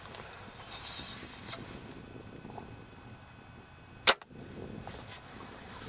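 A Darton Pro3000 compound bow shooting a 373-grain arrow outdoors, giving one sharp, quiet release snap partway through against a low background hiss.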